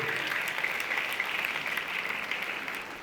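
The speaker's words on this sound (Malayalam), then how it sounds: "നല്ലൊരു കയ്യടി അദ്ദേഹത്തിന്." A crowd applauds an MP at an awards ceremony with dense, sustained clapping that fills the room for about three seconds, loud and even, with no voices over it.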